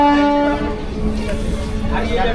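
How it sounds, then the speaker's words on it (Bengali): A local train pulls out of a station near Bandel in Hooghly. A short horn blast opens, then a steady rolling rumble of wheels and carriages continues, close and fairly loud. "দেখতে পাচ্ছেন এখন এই ট্রেনটি ছেড়ে দিচ্ছে"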